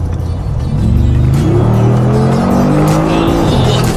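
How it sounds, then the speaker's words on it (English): A 2019 Mercedes G-Wagon engine revs hard and loud, close by. The pitch climbs steadily as it accelerates and its tone shifts between gears, a continuous powerful roar with a bit of tire noise. "All right, Zach, let's hear the power of this car."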